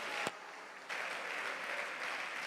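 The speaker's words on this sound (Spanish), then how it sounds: "Denle un aplauso al Señor, hermanos." A church congregation applauds during a Spanish-language sermon, dense clapping from many hands that starts just after a single sharp bang and carries on without a break.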